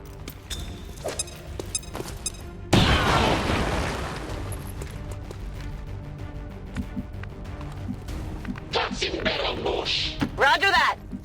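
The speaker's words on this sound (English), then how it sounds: "Throwing grenade!" A grenade blast in XCOM 2 erupts as a sudden loud boom that decays into a rumbling tail, amid scattered footsteps, clanks and later electronic game effects.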